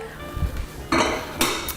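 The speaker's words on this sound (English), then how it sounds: "I might grab a plate behind me to do that" A plate is picked up and set down in a home kitchen while frying pickle poppers are prepared, giving two or three sharp ceramic clinks and clatters close by over a soft background.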